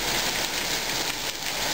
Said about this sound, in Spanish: mira lo que está lloviendo